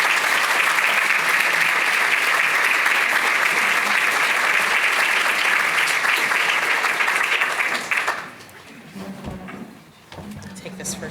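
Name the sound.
audience applause for event moderator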